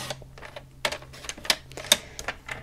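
A 12 by 12 inch sheet of card paper is trimmed down for a handmade card, giving a run of sharp clicking and crisp cutting strokes close by with no talking.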